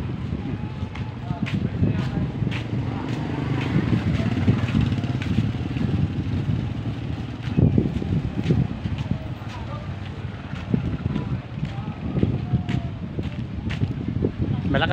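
Strong, steady wind gusts roar across the microphone at Matabungkay beach, a dense low rumble lasting throughout with faint voices talking underneath.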